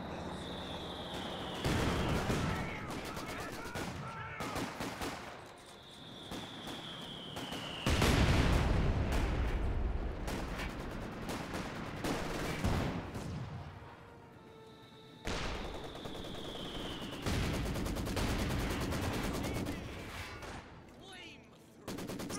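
Mortar pit firing in Company of Heroes 2: repeated heavy blasts and bursts of gunfire roll through a busy battle, loud and close, with whistling incoming rounds and several distinct impact waves across the stretch.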